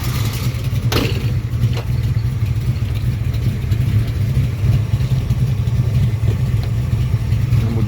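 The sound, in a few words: 1971 Ford XY GT Falcon replica engine idling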